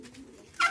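Racing pigeons in the male compartment of a loft give a brief low coo followed by a short rustle or flutter, faint and close, with no speech.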